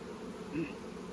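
A low, steady honey bee buzz hums throughout, with one brief closer pass swelling slightly in the middle.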